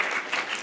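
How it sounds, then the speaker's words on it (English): A brief burst of applause from a small crowd, steady clapping with no voices. "Let's give him a round of applause."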